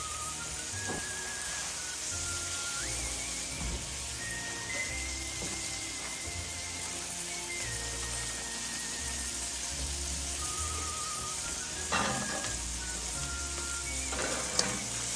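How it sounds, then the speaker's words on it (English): Salmon bastes in butter in a frying pan alongside a garlic honey glaze, giving a steady, dense sizzle that holds for the whole stretch with a few faint clinks near the end; no one speaks. "I just added a little bit more butter to the pan."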